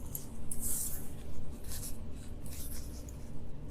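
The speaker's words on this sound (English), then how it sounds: "with my shop scissors, I get as close to the edge as I possibly can" Quiet scissors snip and slide through Oratex aircraft fabric covering on a Tripacer, a few soft crisp cuts close by with no talking.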